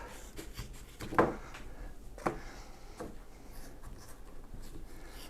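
Leftover candle wax being cut into pieces, heard as faint scraping with two brief, soft cutting scrapes close by in a quiet room.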